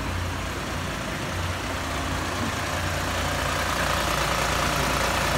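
A 1980 Toyota Land Cruiser Hardtop with a swapped Prado turbo diesel engine idles steadily close by, a constant low, rumbling drone with no talk over it.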